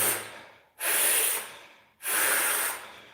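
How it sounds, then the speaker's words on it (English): Two forceful, sustained exhalations through the nose and mouth, each a loud hissing rush lasting over a second, used as a diaphragm breathing exercise in martial arts iron body training and heard up close with a short pause between them. "You need to breathe like this"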